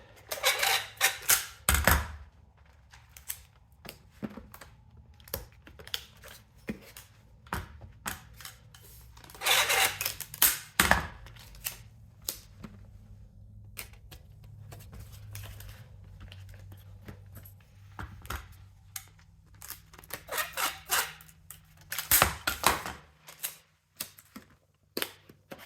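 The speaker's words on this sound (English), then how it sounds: "so I'll go ahead and tape that up" Packing tape is pulled and pressed onto a package holding a Super Mario Bros. 3 game, in sharp ripping bursts and scattered scratchy rubs with quiet pauses between them, close to the microphone.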